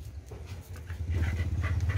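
A long-haired Japanese breed dog pants rapidly and steadily while being groomed, close but fairly quiet, the rhythmic breathing growing stronger toward the end.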